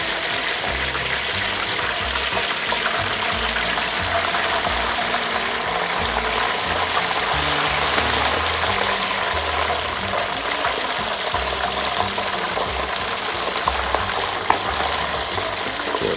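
A whole turkey lowered slowly into a pot of hot frying oil, giving a continuous hissing, bubbling sizzle with dense crackle that holds steady and close throughout.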